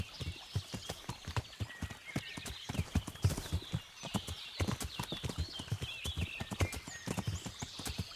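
Horse hooves pound in a rhythmic gallop in the medieval video game Kingdom Come Deliverance, with steady close clip-clops running throughout and a horse whinnying partway through.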